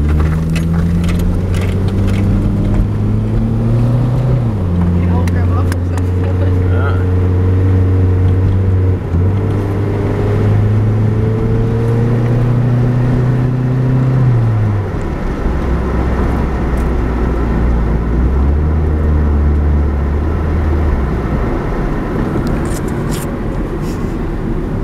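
A Toyota Paseo drives up the road with a loud, steady engine drone that rises in pitch, drops sharply at each gear shift and then climbs again, heard close from inside the car.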